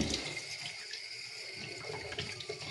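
A kitchen tap runs hard into a sink, a strong hissing gush of water that stays close and continuous, with small splashy fluctuations and no speech.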